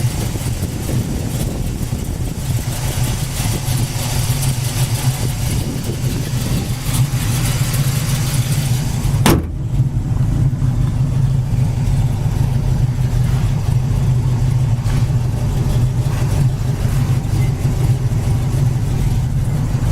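A 1970 Chevy Camaro engine, freshly tuned, idles steadily nearby with a low rumbling hum for the whole stretch, broken by one sharp click partway through.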